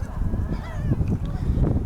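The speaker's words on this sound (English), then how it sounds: "Can't escape the seagulls by the looks of it." Seagulls call at a lake waterfront, with a few brief, close, nasal cries over a murmur of outdoor background noise.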